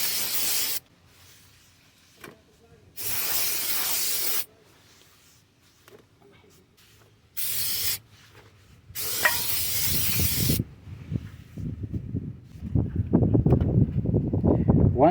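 Brake cleaner sprays onto a brake rotor from a 1996–2004 Nissan Pathfinder in several loud hissing bursts, each a second or two long with quiet gaps between, followed by rubbing and wiping sounds near the end.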